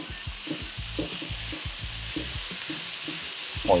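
Christmas rice with chopped pecans sizzles and fries in a hot pan, tossed with a rhythmic series of scraping, stirring scoops over a constant close crackle.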